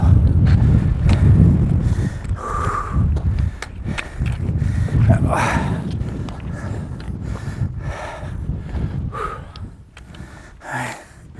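Strong gusting wind buffets the microphone on an exposed mountain path on the Brandy Pad, a continuous low roar under heavy breathing, footsteps and occasional talk.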